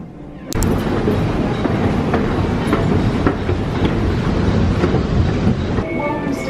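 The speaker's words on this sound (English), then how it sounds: "This is the train to..." A train running on rails, starting abruptly with a loud, steady rumble and rhythmic wheel clatter, plus a faint squeal near the end.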